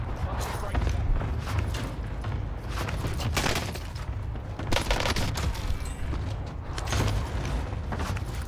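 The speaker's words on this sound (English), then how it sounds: "Oh my gosh, I'm getting shot in the back." Gunfire crackles in Call of Duty on Rebirth Island, with bursts of shots and sharp pops scattered over several seconds while a player talks through it.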